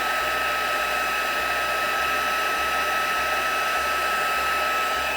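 A heat tool blows hot air to melt embossing powder on a card, a constant loud whirring fan rush with a faint low pulsing hum, unbroken and alone throughout.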